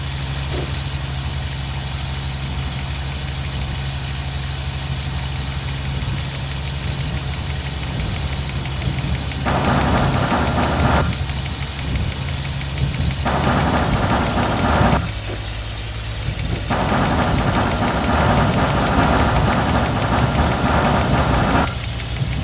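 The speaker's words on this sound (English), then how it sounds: "Here's that clip one more time so you can hear my throttle control." Aircraft piston engine in the Aces High 2 flight combat game droning loudly and continuously, its pitch and roughness shifting in several distinct steps as the throttle is pulled back and pushed forward.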